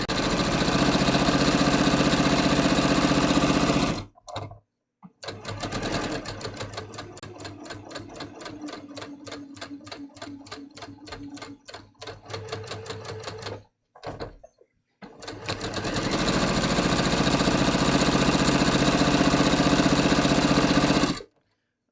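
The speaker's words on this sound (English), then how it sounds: "I'm going to sew those short shoulder seams" A home sewing machine stitches short shoulder seams on a bias-cut top. The motor whirs loud and close in long steady runs, with short pauses where it stops between passes.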